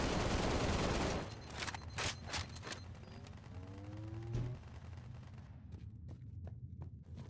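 Gunfire in the Halo video game, a dense burst of rapid shots at the start followed by scattered single reports and mechanical clicks, with a whooshing effect midway, fairly loud and close.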